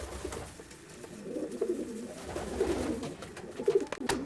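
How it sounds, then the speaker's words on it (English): Racing pigeons coo softly in a straw-bedded stock loft, with low, throaty coos repeating irregularly at close range over a quiet background. "I'll tell you what, Dave, these birds look nice and comfortable in the straw, don't they?"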